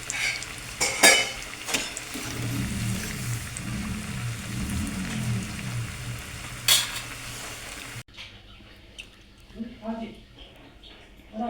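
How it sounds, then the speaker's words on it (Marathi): Aluvadi, colocasia-leaf rolls, deep frying in very hot oil, a steady bubbling sizzle with a few sharp crackles and utensil clinks, then a quieter stretch where a voice speaks over faint frying. "डीप फ्राय करून टाकले बघा वाड्या सगळ्या कडकडीत तेलात"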